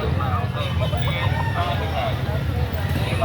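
Chickens at a market where two 10-month-old birds are priced, clucking and crowing close by over steady background babble and traffic, while people talk nearby.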